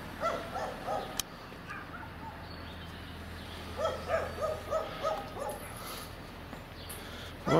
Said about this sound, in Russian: Там собачки.